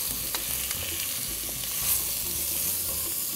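Mutton pieces searing in hot oil with cumin powder, a steady close-up sizzle and crackle of frying meat with faint stirring scrapes, no voices.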